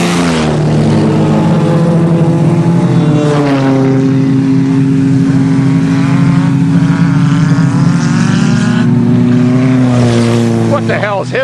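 At a field race on a farm, a 3.4 minivan and a 1.8 2000 Corolla with variable valve timing roar loudly and close, their engines droning and rising in pitch continuously, with voices faintly mixed in.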